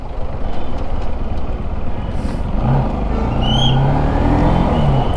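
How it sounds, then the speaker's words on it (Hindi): Steady road traffic with cars and trucks passing close by, a continuous loud rumble of engines and tyres with a brief air-brake hiss and a short high beep partway through, no talk. "और ट्रैफिक बढ़ने लगा है"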